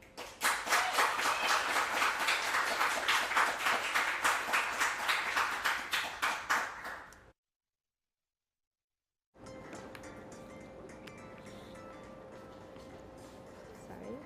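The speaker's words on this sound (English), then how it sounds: "let's have a warm round of applause for Colby" An audience at the VueNYC meetup applauds a speaker from IBM with a dense, loud patter of many hands that fades out around seven seconds, followed by silence and then a quiet room.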